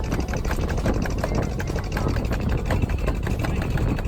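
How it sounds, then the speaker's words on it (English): A motorboat engine drones loud and close, a constant throbbing hum with rapid regular pulses and no talking. "we boarded a boat that would take us out to a distant island"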